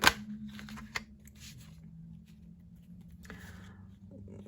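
A quick riffle of tarot cards being shuffled at the start, followed by a few soft card slaps and taps in a quiet room.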